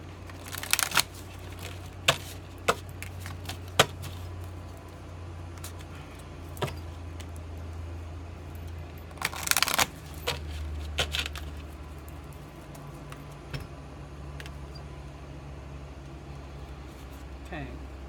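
Tarot cards being shuffled: soft papery riffles and crisp snaps scattered across the stretch, close and quiet, with a few louder flurries and a low background hum.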